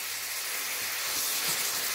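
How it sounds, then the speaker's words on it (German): Veal sweetbreads searing in a hot pan give off a steady, even sizzling hiss that runs unbroken for the whole stretch at moderate loudness, with no voices over it. "dann lassen wir die ganze Sache noch ein klein wenig anbraten, dass es so ein bisschen Farbe nimmt"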